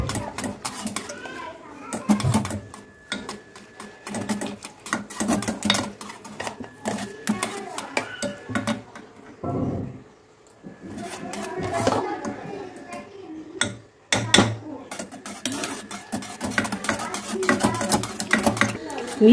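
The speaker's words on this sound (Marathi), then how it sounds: "तर आपण कंटिन्यू हलवत राहायचंय। एकही गुठळी नाही राहिली पाहिजे याच्यामध्ये।" Poha flour dough is stirred continuously in a pot, with repeated scraping and knocking of a spoon against metal, some louder clatters, heard under a person talking throughout.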